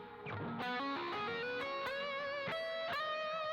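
Electric guitar through a BOSS ME-90 multi-effects unit on its fuzz echo setting plays a sustained melodic line of picked notes, each with a fuzzy, harmonically rich tone and a trailing echo, loud and alone.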